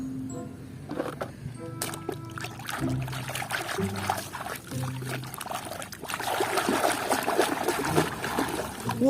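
Water pours and trickles steadily over muddy toy vehicles, including a tow truck and a cement mixer truck, as they are washed, with close splashing that swells into a fuller rush toward the end.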